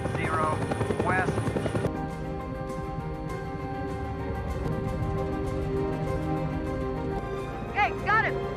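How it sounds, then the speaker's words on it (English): A helicopter's steady rotor and engine drone runs continuously through a mountain search scene, mid-distance and sustained, with narration spoken over it. "Sarah climbs into a helicopter"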